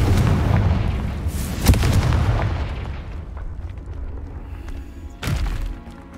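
A Confringo blasting spell goes off in a video game, giving two heavy booming explosions with rumbling tails over a continuous low game background.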